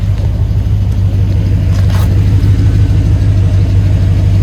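A 1977 Chevy Suburban in military style drives along, its engine a steady, loud, close rumble with a constant low drone and no voices.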